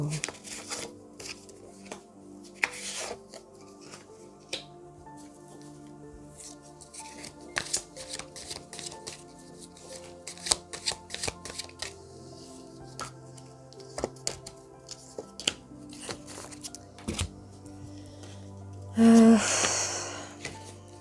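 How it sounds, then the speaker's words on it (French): Large oracle cards are shuffled close up, with scattered soft riffles and taps through the clip under and between occasional talk, and a louder, denser burst near the end. "J'essaye de pousser les cartes parce qu'elles sont grandes."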